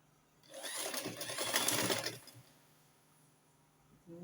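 Sewing machine running steadily for about two seconds while stitching an underbust corset with drape, a continuous mechanical whir at moderate level, followed by quiet with a faint click near the end.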